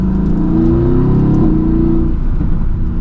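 A powerful car engine roars loudly and steadily at close range, revving and pulling hard with a deep, throaty tone.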